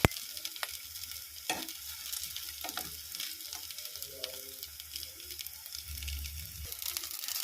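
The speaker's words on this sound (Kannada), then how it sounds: "ಎರಡು ಬೇಯಿಸಿರೋದು ಸ್ವಲ್ಪ ಕ್ರಿಸ್ಪಿ ಬರೋವರೆಗೂ ಫ್ರೈ ಮಾಡಬೇಕು" Aloo gobi cutlets shallow-frying in oil until crisp, making a soft, bubbling sizzle broken by scattered clinks and scrapes of a turner, close but fairly quiet, with no speech.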